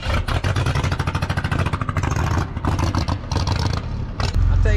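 A 1980 El Camino's carbureted engine revving hard, loud rough pulsing bursts with clattering, uneven throttle surges, and a deep rumble settling at the end, no talk over it.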